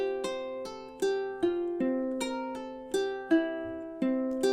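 Ukulele fingerpicking measures 13 and 14 of an etude played with a three-finger approach: a steady sequence of bright plucked notes, each struck cleanly and left ringing, at a moderate even tempo with no voices.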